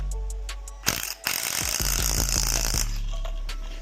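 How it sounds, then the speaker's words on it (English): A pneumatic rattle gun undoing a strut nut on a Ford Fairlane, firing a loud, close burst of rapid hammering clatter for about two seconds over steady compressor-like hum. "Put the socket on first, now put the rattle gun on."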